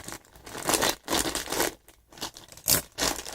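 Scissors snip and slice through LEGO set packaging, giving bursts of crinkling and tearing plastic in several close, loud strokes separated by short pauses.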